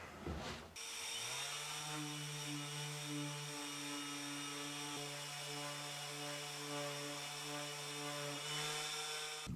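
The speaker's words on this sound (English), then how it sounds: "they're all going to need to sand down." A power sander smooths wooden shelf pieces with a steady, loud, close whine and hum that starts abruptly and runs unbroken to the end.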